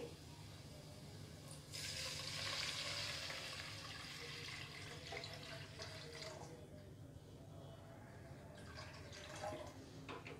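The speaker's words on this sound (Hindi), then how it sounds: "अब हम इसमें पानी ऐड कर लेंगे।" Water pours steadily into a cooking pot of fried ginger and garlic, a hissing, splashing stream that swells then settles, heard up close against a low background hum.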